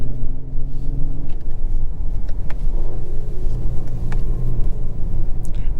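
A 2023 Lexus LS500 AWD with a 10-speed transmission accelerating, its engine rumbling steadily and loudly from inside the cabin, with brief clicks and shift changes breaking through the low drone.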